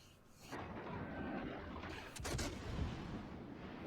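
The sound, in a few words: warship guns firing shells in World of Warships Legends video game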